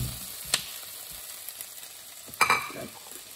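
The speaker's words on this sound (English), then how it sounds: "And now we want to chuck in the peppers." Peppers tossed into a hot pan for chilli paneer give a quiet, steady sizzle, broken by a couple of sharp scraping stirs.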